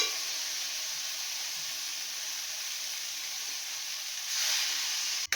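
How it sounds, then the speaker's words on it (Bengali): Fish curry with potatoes boiling and simmering in a pan, a steady close hiss and bubbling steam that swells briefly near the end before a sudden stop. "মাছের ঝোলটা ফুটে গেছে, আলুটাও আমার সিদ্ধ হয়ে গেছে।"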